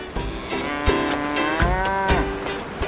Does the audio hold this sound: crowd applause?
no